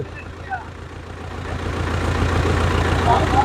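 A Dabang tractor's diesel engine runs steadily, a low continuous rumble that swells slightly louder partway through, heard alone without talk.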